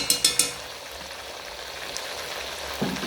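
Pumpkin leaves and flour being mixed in a cooking pot: three quick knocks of a utensil at the start, then a soft steady crackling sizzle with light stirring scrapes, no voices.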